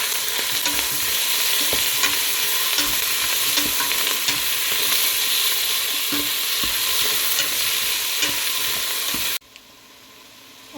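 Onions and tomatoes fry in a pan while being stirred, a steady dense sizzle with scraping strokes throughout that cuts off abruptly near the end.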